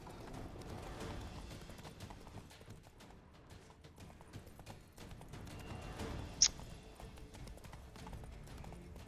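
Horse hooves in the video game The Witcher 3 clip-clop at a steady trot, fairly quiet, with a brief faint whinny partway through and no speech.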